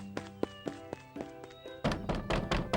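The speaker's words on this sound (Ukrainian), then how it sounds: "Зайчик несамовито затарабанив двері." Knocking on a door in an audiobook fairy tale: a series of evenly spaced hollow knocks that gives way to a faster, louder burst of frantic pounding, close and clear.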